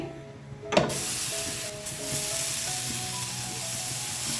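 Semolina and tomato batter poured from a small ladle onto a hot pan, a sharp splash-sizzle at the start settling into a steady close hiss of frying.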